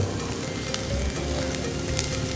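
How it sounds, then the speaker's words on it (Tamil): Spices sautéing in a pan for Chettinad country chicken curry, a dense, continuous sizzle with faint stirring, close and steady throughout. "வதங்கி நல்லா வாசனை வர வரைக்கும் வதக்கணும்"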